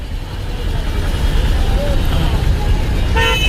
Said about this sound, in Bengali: এই যে বিআরটিসির সরকারি বাস